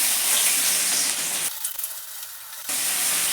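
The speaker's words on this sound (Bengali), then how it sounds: "পেঁয়াজটা দিয়ে ভালো করে ভেজে নিচ্ছি" Onions sizzle and hiss in hot oil with cumin and bay leaf, a steady, close frying crackle that drops briefly quieter partway through before returning full.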